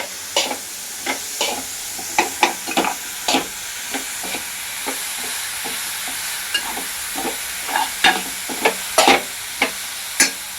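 Patole filling being stirred in a pan for Nag Panchami, with repeated scraping strokes of the spoon over a soft, steady sizzle, close and fairly loud, no voices.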